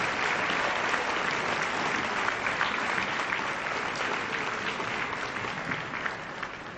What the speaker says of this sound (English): Would you please applaud current Hall of Famers?